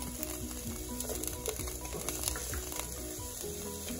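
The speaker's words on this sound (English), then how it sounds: "And now we're going to add our onions to the pan." Onions added to an oiled pan for chicken pot pie, a quiet busy sizzle with rapid crackling pops and light stirring, steady and fairly close, no talking.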